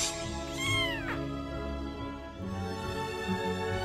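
An animated cat in a Vietnamese cartoon fairy tale gives a clear, close meow with a rising-and-falling pitch, followed by a soft, steady background music bed.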